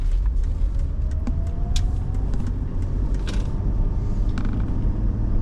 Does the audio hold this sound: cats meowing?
no